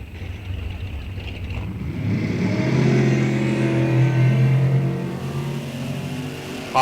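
Two Super Pro drag racing cars launch off the line at a drag strip, engines swelling to a loud, roaring rev that holds before slowly fading into the distance.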